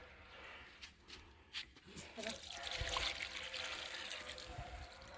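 Hot water trickles and pours steadily into a pot of sarson ka saag on a clay stove, building to a fuller splashing stream midway, close by, with faint background sounds.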